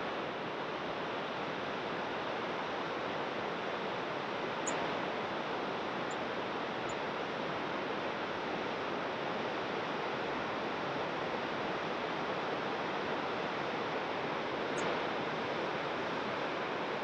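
The Colorado River in the Grand Canyon rushes steadily past, a dense, even roar of water with no break, heard up close throughout.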